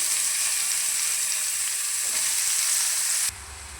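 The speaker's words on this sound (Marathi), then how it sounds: "चला, तर मग याच पॅनमध्ये भिजवलेला सोयाबीन आपण फ्राय करून घेऊया." Soaked soybeans fry in a pan with salt and turmeric, giving a steady, even sizzle that stays close and constant before dropping away abruptly near the end, with no voices.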